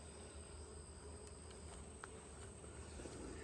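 Honey bees buzz steadily across a hive frame during an inspection, a dense, continuous hum at close range with no one talking.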